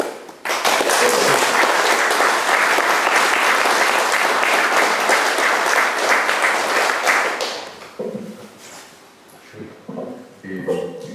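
Loud, dense applause from an audience at a talk on parliamentary and electoral reform fills most of the stretch, then fades out, leaving a few scattered claps and faint room sounds.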